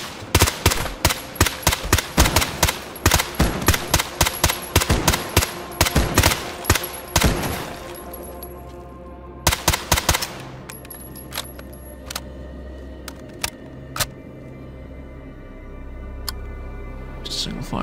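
Video game gunfire: rapid volleys of loud, sharp shots for about seven seconds, then a pause, a short burst, and a few scattered single shots over a low rumble.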